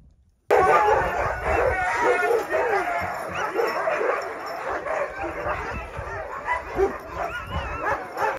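Many sled dogs at a dog station on Svalbard bark, yip and whimper together in a loud, continuous, overlapping chorus, close by and sustained throughout.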